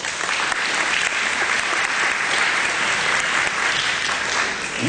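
Sustained clapping from a banquet audience at a chamber of commerce gala, an even, continuous wash of many hands that holds at a steady level throughout without talk.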